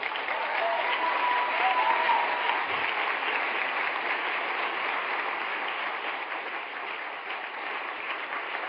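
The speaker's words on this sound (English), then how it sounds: "That's the one that gets the applause." Audience applause at Emma Watson's UN speech, a sustained, dense roll of clapping from a large crowd heard at a distance, holding steady and easing slightly over time.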